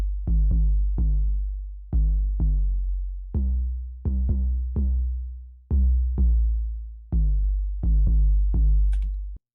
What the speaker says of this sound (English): Then an 808 comes in.